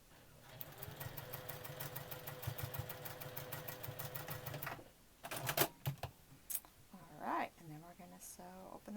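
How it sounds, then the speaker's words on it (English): A sewing machine stitches a quilt 4-patch block in a steady mechanical whir for about five seconds, then stops; a voice talks afterward. "we're going to sew it just like a regular 4-patch block."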